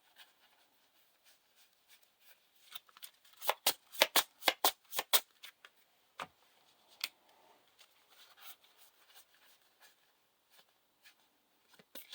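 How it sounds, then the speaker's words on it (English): Cards being shuffled for the encounter deck of a Lord of the Rings living card game, a burst of crisp riffling snaps in the middle followed by scattered softer taps and shuffles, close up with no speech. "Shuffle the encounter deck."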